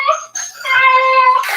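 A dog whimpering close by indoors, a string of high, tonal whines that rise and hold, loud and clear with no talk over them.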